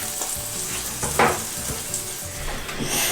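Homemade halloumi fries in a hot pan with a loud, continuous sizzle close by. A brief scrape of a utensil against the pan breaks in partway through, and no voices are heard.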